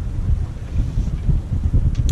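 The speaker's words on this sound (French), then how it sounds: "il n'y a rien qui arrête le vent" Wind buffets a sailboat out at sea off the Île de Ré, a continuous low rushing and rumbling with gusty swells in strength, close to the microphone and with no voices.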